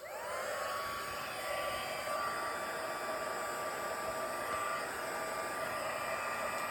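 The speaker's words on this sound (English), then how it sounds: "And I'm just going to heat emboss this now." A heat embossing tool blows hot air in a steady, loud, continuous whoosh with a faint whine, running alone and unbroken throughout.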